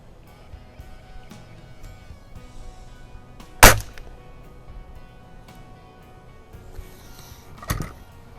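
A Walther spring air rifle fires pellets at a target 25 yards away, giving two sharp close cracks several seconds apart over a quiet background, the first clearly louder.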